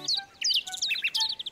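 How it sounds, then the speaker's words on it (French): Cartoon birds chirp in a French children's animation, a rapid flurry of bright, high tweets and whistles that overlap closely and loudly with no talk. "Ouh, les oiseaux!"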